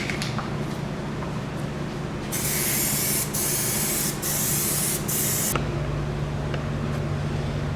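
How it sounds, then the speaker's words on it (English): Undercoating sprays under the trunk of a 1972 Pontiac Le Mans in a loud, steady aerosol hiss that comes in a few bursts with short pauses, over a constant low background hum. "And to undercoat it."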